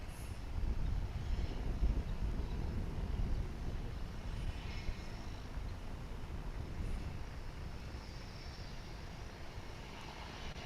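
A jet airliner taking off from a runway at Dallas/Fort Worth International Airport, heard as a steady, distant engine roar with wind noise, holding level throughout, with no talk.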